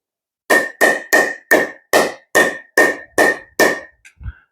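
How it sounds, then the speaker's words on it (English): Nine crisp, evenly spaced pings from a ball striking an aluminium-core pickleball paddle, each bright and ringing with a short decay, close and alone, followed by a couple of softer taps. "You can hear the aluminium ping coming off of it."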